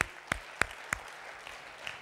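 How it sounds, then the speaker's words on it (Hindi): Scattered audience clapping at a motivational talk: four sharp, separate claps about a third of a second apart, then near silence, all faint and without voices. "तालियां बजाई सभी"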